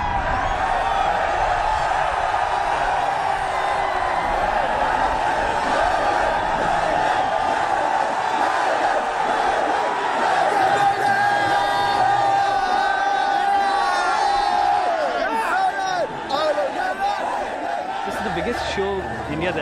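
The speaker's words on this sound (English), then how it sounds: "I don't think you'll hear a louder crowd anywhere in the world" A huge crowd of Indian metalheads at a concert gives off a loud, sustained roar of cheering and chanting voices that stays dense and close for the whole stretch.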